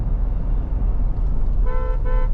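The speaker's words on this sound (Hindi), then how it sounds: "हॉर्न तो मैंने इसमें क्रेटा के डाले हुए हैं, इसलिए अलग साउंड है।" A Hyundai Creta horn fitted to a Mahindra Thar Roxx sounds in a couple of short toots over steady road and engine rumble from inside the moving vehicle.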